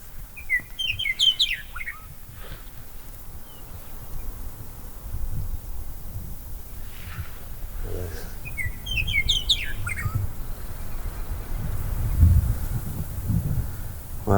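Meadowlark song rings out in two bright, warbling phrases on open South Dakota public land, loud and fairly close, over a steady low wind rumble and faint rustling.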